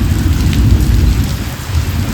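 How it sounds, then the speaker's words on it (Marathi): Heavy rain pours down hard on a roadside during a cycling trip, with a deep rolling rumble of thunder running underneath throughout, loud and close. "जस्ट ते चालू आणि पाऊस आला एवढा"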